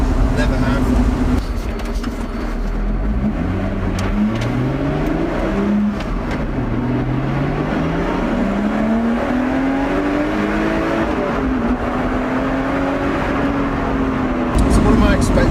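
A Lotus Exige, the light Sport 380 model, drives with its engine note climbing and falling through repeated gear changes, steady and close, while a voice talks over it throughout.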